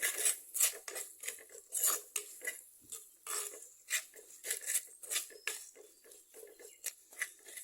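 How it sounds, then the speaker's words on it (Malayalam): Turmeric and chili powder are sautéed in a pan for a sardine curry, with quick rhythmic scraping and tapping spoon strokes against the metal, close and fairly quiet, no voices. "അപ്പോൾ ഇതൊക്കെ ഒന്ന് നന്നായിട്ട് പച്ചമണം മാറുന്നവരെ നന്നായിട്ടൊന്ന് ബ്രൗൺ കളറാകുന്നതിന് വഴറ്റിയെടുക്കാം"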